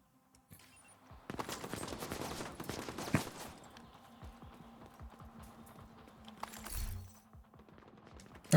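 Scattered gunshots in a video game ring out in a dense volley early on, then thin to sporadic pops and a later short burst, fairly faint and with no talk.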